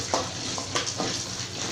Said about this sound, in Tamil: இந்த மாதிரி நல்லா ஆயிலில் இந்த மாதிரி வறுத்துக்கலாம்.